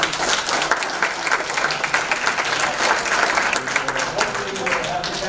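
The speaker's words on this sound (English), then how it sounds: "Give Gray a big round of applause." Audience at a real estate investor meetup applauding a guest speaker, steady dense clapping throughout, full and sustained, with some chatter underneath.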